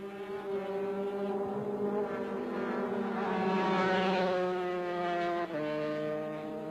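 A two-stroke 150 racing motorcycle laps a road circuit at speed, its high, buzzing engine note loud and sustained, rising and easing slightly through a corner with a brief dip near the end.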